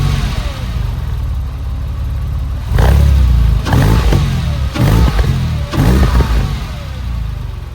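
Porsche 997.1 with Fab Speed side mufflers, black chrome tips and Fab Speed carbon intake, engine running loudly close by then revved in several sharp blips that rise and fall over a steady idle.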